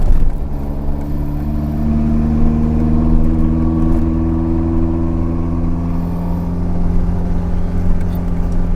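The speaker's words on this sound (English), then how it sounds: "I've obviously put a microphone in the engine bay so you can hear those throttles." A Toyota AE86's engine, recorded in the engine bay, drones steadily from up close, its low throaty hum swelling slightly as the throttle shifts while cruising.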